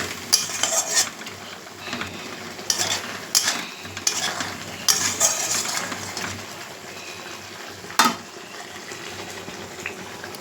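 Rohu fish fries in a pan, its steady sizzle broken by repeated spatula scrapes and metallic clinks against the cookware, with one sharp knock near the end and no speech.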